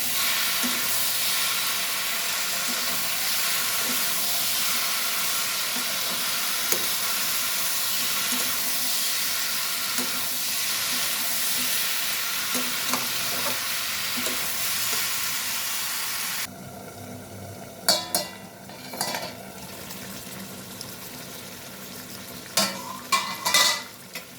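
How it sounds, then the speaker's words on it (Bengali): Dried fish frying with browned spices in a pan, a dense, continuous loud sizzle for most of the time, then a quieter stretch punctuated by clattering stirs and scrapes of the utensil. "শুটকি মাছগুলো দিয়েও আমি আবার এটাকে ভাজবো।"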